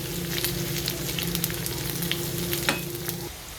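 Garlic is stir-fried in a dry pan with no oil, giving a continuous close sizzle, steady hiss and frying crackle, with a low hum underneath and no talking.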